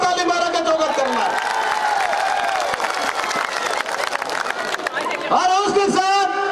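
A large crowd at a Congress rally in Hajo, Assam applauds and cheers to welcome Chief Minister Bhupesh Baghel, a dense continuous roar of clapping and voices that holds steady, with a loud amplified voice over it.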